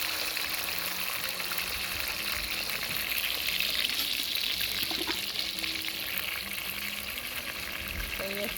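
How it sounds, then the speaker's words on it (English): Fish fries with garlic and pepper in a skillet during outdoor Jamaican cooking, a steady close sizzle and crackle of hot oil continuing throughout, with faint background noise. "When I fry my fish then with love garlic and pepper, skillet"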